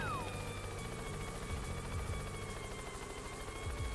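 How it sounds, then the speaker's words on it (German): A helicopter in the video game Yooka-Laylee: a steady, low rotor drone with a faint whine, continuous and fairly quiet, without talk. "Helikopter stürzt ab! Mayday! Mayday!"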